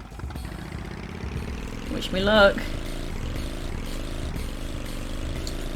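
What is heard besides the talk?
quad bike engine revving in Tomb Raider 3 video game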